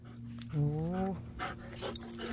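A puppy gives a short, rising whiny yelp, close and fairly loud, surrounded by a steady low hum and quiet rustling.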